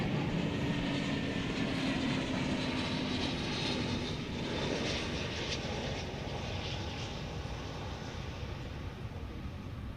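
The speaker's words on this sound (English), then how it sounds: "Coming in from Ontario, California, Flight 2635, American Airlines, and Airbus A321." An American Airlines Airbus A321 arrives at DFW Airport with a loud, broad jet engine roar that fades slowly as it passes, steady and unbroken with no voices.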